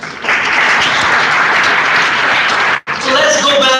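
Loud, dense applause from an audience after a speech by Sharad Sagar in Hyderabad, sustained for nearly three seconds, briefly cut off, then resuming under a voice.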